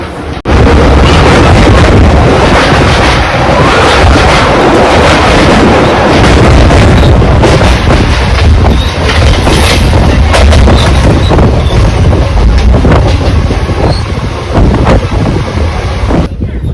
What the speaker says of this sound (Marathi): आणि आता इथे आणखी एक ब्रिज आलाय ज्याच्यावरून ट्रेन चालली आहे आता.